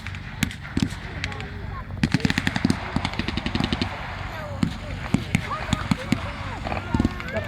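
Bursts of gunfire crackle from German forces shooting at a fighter aircraft during a WW2 re-enactment air display, rapid sharp reports scattered across the scene with a commentator talking over them.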